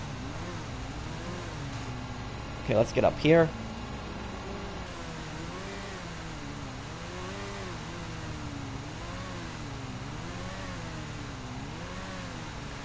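A garbage truck engine in the video game GTA drives along with a low, wavering drone that rises and falls as it changes speed. Someone speaks briefly near the start.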